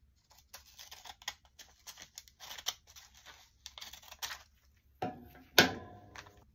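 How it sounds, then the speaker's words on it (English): Scissors cut apart a magazine page with quiet, irregular snips and paper rustles, ending in a louder crisp slice and tearing of the paper near the close. "I'm going to cut it apart."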